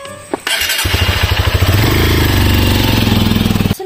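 A motorcycle engine starts up close and loud, then revs in a rapid pulsing run before cutting off, with no talk over it.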